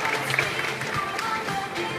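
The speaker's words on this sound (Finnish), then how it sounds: "Ja yleisö saa myöskin ottaa niitä käsiä yhteen, taputtaa meidän finalisteille." An audience at a Finnish fitness model show claps for the finalists, steady scattered applause from a crowd at moderate distance, with an announcer's voice running over it.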